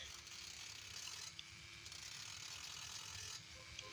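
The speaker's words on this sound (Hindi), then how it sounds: "अभी थोड़ा थोड़ा कड़ा कर रहा हूँ।" A ratchet clicks steadily in a fast, even run as parts are tightened on a 2015 CD Super Star motorcycle, close and fairly faint, with a few brief breaks in the rhythm.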